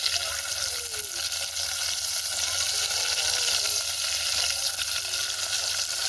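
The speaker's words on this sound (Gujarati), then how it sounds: "આવી રીતે મરચાં તળી નાખવાનું" Green chilies fry in hot oil with a steady, crackling sizzle that stays loud and even throughout, without talk.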